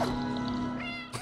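A cat meows in the video game Stray, one loud drawn-out meow up close, rising and then trailing off, followed by a short brighter chirp at the end.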